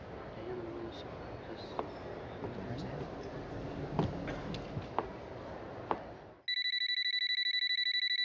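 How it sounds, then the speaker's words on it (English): A home telephone rings with steady, repeated electronic tones that start abruptly partway through and continue unanswered to the end, following a stretch of muffled background noise. "Calls to the Sherrys' home went unanswered"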